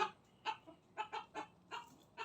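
A silkie chicken clucks in a short series of about six clipped, throaty calls at an uneven pace, close by and clear with no talk over it.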